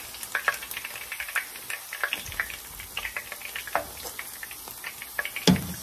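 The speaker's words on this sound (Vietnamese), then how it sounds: "Đây là mình chiên tàu hủ cả nhà" Tofu fries in a pan for a vegetarian stir-fried noodle dish, giving a continuous crackling sizzle with sharp pops and spatters scattered throughout at close range, and no talking.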